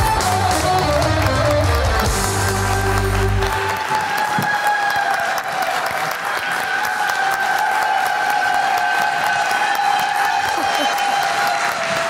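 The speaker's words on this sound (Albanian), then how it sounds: "E ftoj me një duartrokitje shumë të madhe" A studio audience on an Albanian TV variety show bursts into loud, sustained applause and cheering to welcome a guest singer, with a music sting at the start and dense clapping filling the whole stretch.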